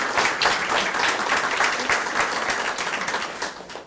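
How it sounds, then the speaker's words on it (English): A crowd applauds loudly, a dense burst of clapping that holds steady and then starts to taper off near the end. "So I think a round of applause just for that,"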